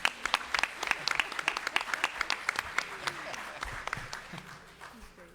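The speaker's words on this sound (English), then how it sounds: "please give him a warm round of applause" Audience at a summit session claps in a warm round of applause: sharp individual claps stand out near the front over a softer crowd patter, thinning toward the end as a voice begins to talk.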